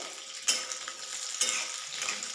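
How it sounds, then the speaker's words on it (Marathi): Green chillies fry in about four spoonfuls of oil, spread out in the pan: a steady close sizzle with two sharper bursts as they hit or are moved. "तेलामध्ये मिरच्या घालूया आपण. मिरच्या भाजून घ्यायच्या."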